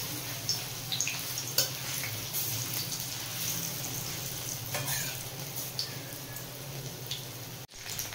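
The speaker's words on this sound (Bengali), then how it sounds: "সবগুলো আমি লাল লাল করে ভেজে নেব।" Chickpea lentil fritters (bora) fry in oil for a malai curry, a soft steady sizzle with faint bubbling and the occasional scrape or tap of a spatula, close but quiet, no talking.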